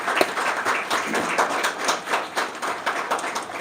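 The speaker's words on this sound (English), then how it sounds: "Another round of applause for our amazing panelists." An audience applauds panelists after a health care event discussion, a steady spread of many hand claps with no talk over it, moderately loud and near.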